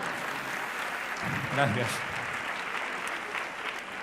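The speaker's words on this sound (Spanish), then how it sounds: "Aplaudí." An audience applauds steadily for the full few seconds with dense, even clapping, and a single short spoken word cuts in over it midway.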